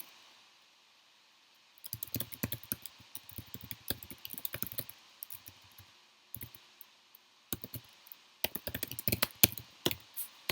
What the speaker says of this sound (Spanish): estoy tecleando, horrible